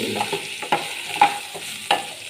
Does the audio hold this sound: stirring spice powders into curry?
yes